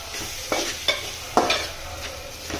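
Ginger garlic paste frying in oil for an egg masala curry, a soft sizzle broken by three or four sharp spatula scrapes, close and fairly quiet.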